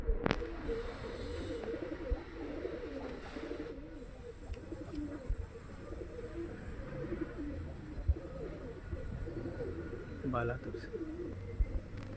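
Girebaaz pigeons cooing softly at a distance, low gurgling calls repeating over faint background noise while someone talks intermittently.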